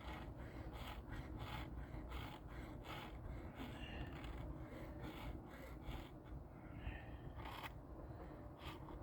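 Rakers on a Husqvarna 460 chainsaw chain being hand-filed, quiet repeated rasping strokes in an uneven rhythm, close and faint, no talking.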